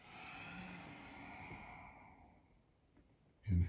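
A long, soft exhale during a yoga forward fold, a breathy hiss that fades out over a few seconds, followed by a brief low thump or rustle of movement at the end.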